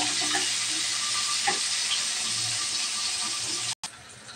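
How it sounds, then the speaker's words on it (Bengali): Hilsa fish fries in mustard oil in a pan, giving a continuous close sizzle with faint crackles, steady until a brief drop near the end. "এখন আমি মাছটা দিয়ে দেব। মাছটা হালকা ভেজে নেব।"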